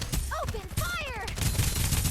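Gunfire from the battle royale shooter Farlight 84, loud bursts mixed with game effects, rising electronic sweeps and a voice callout, then dense, steady rapid firing through the second half.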